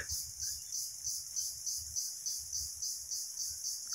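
Crickets chirp in a quiet village at night, a high rhythmic trill pulsing in steady regular bursts, faint and continuous with no voices.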